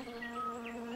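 Bees buzzing steadily close by as they gather nectar from flowers, a continuous droning hum with no voices.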